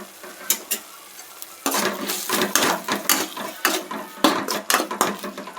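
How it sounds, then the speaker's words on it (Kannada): Paneer gobi manchurian ingredients sizzle and fry in a pan while being stirred, with loud scraping and clattering strokes rising in irregular bursts over a steady frying hiss. "ಇಷ್ಟು ಫ್ರೈ ಆದರೆ ಸಾಕು."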